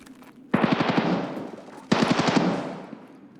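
Automatic gunfire in the video game Escape from Tarkov, two loud rapid bursts from a fight with a rattling echoing tail after each, heard alone with no talking.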